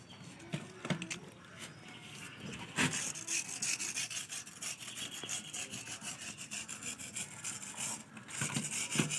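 Steady rasping and sawing of a tool cutting a decorative design into a rooftop panel on a house, continuous rhythmic strokes up close with a few sharper knocks.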